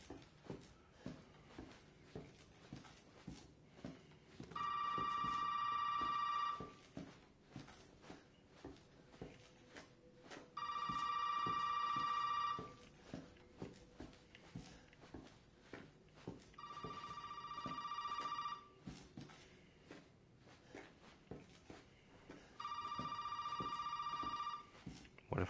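An old-fashioned telephone rings four times in a Resident Evil 7 house, each ring a harsh bell burst about two seconds long, spaced evenly over quiet ambience with faint footsteps.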